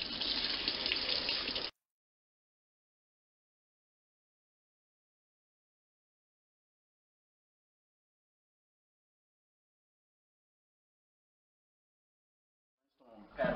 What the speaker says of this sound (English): So now I'm just going to rinse off the potato.